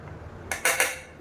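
A utensil cuts through steamed kattuyanam rice puttu with green gram, three quick close scraping clinks against the dish, with no talking.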